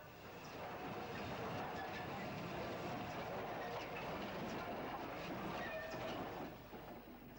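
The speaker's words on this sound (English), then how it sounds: "With tender fully loaded, 60872 passes over the Scarborough line." Steam locomotive 60872 with a fully loaded tender passing over the Scarborough line, a steady rolling rumble with faint rhythmic clatter, distant and muffled on an old recording.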